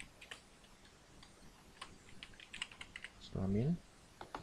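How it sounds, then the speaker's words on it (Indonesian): Brisk typing on a computer keyboard while a Google Form questionnaire is filled in: irregular light clicks close by, with a brief louder voiced burst partway through. "ketik jenis kelamin"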